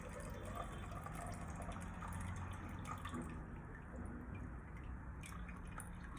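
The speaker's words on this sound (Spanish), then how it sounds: "retiramos el exceso de agua" Excess water drains and trickles out of a succulent cutting pot with no drainage holes, a quiet, steady low pouring and dripping with no talk.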